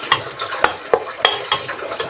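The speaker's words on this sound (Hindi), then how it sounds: "कीमा देखें अच्छी तरह भून गया, इसका जो है वो घी भी ऊपर आ गया" Keema mince fries in ghee while a spoon stirs through it, giving a steady close sizzle broken by sharp scraping clacks against the pan roughly every half second.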